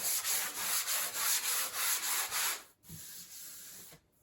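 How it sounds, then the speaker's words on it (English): A medium-fine sanding sponge scrubs across a drywall patch in crosshatch strokes, a close, steady rasping rub in repeated back-and-forth passes that stops briefly, then resumes more softly. "I'm just going to use a crosshatch pattern sanding sponge, like a medium fine, and just go across this way"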